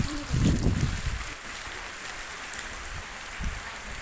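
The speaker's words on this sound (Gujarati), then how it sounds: "વરસાદ આવી" Rain falls in a rural Indian village under dark clouds, a steady, soft hiss of drops that continues throughout, with a few low thumps and rumbles near the start.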